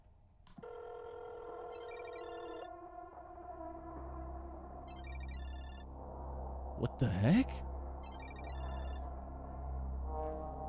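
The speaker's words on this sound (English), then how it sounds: "Asuka's ringtone. I think it's coming from the balcony." A phone ringtone sounds in a video game: a repeating electronic melody in short phrases, moderately loud over a steady low hum, with a brief exclaimed voice and a sharp sweep partway through.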